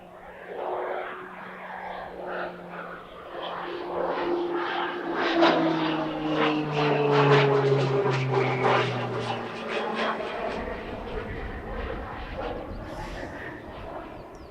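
A PZL-130 Orlik propeller trainer of the Polish Air Force flies a display at an airshow in Leszno, its engine drone rising and falling with pitch sweeps as it passes, loud and fairly near throughout.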